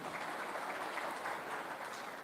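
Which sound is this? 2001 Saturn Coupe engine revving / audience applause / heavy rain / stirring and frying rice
audience applause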